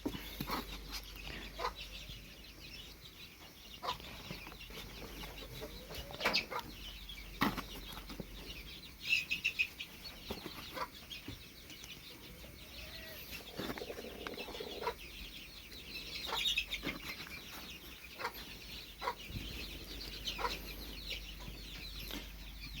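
Native country hens cluck softly and intermittently, with occasional wing flaps and rustling close by, against a steady low background hum.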